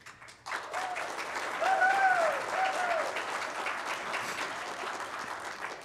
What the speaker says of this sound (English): I'd like to thank my wife for clapping.